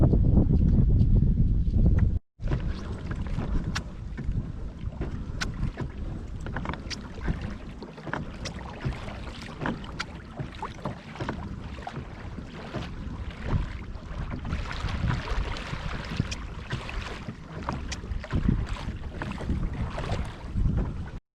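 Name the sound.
kayak paddling on lake in wind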